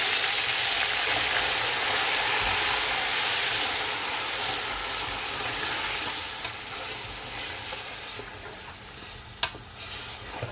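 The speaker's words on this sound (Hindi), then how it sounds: "इसमें चिकन जो हमने मसाला मैरिनेट किया था वो ऐड करने लगा हूँ। मिक्स करूँगा पहले इसको।" Marinated chicken is stirred and tossed in a hot pan, sizzling loudly and steadily throughout, with scraping stirs and a couple of sharp clicks near the end, no voices.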